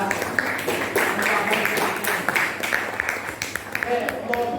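A class of students applauds at their teacher's prompt, a burst of scattered, uneven handclaps heard close, with chatter and voices mixed in and dying down toward the end.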